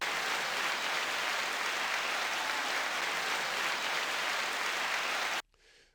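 Applause from a crowd is sustained and dense at an even level, then cuts off abruptly near the end, leaving only faint residual noise.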